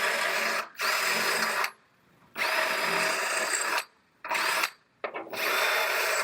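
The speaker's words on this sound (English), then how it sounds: "So as I'm drilling these out," A power drill whines loudly in several bursts, drilling out spot welds on a damaged Honda CR-V rear, stopping and restarting with short silent gaps between each drilling run.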